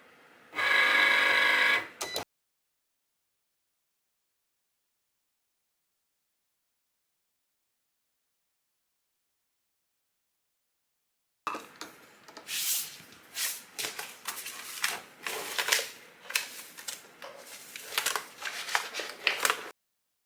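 A vinyl cutting machine makes a brief burst of motor whirring, then there is a long silence before it resumes cutting with uneven buzzing, clicking and sliding noises that stop and start for several seconds.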